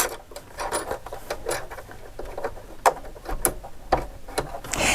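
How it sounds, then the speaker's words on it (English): A Janome 4120QDC-T sewing machine stitches a garment seam with stabilizer, giving a quick, even mechanical patter of needle strokes close by. "now all I have to do is use the guide on the foot to help me and just sew my seam"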